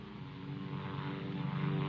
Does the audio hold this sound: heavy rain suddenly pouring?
no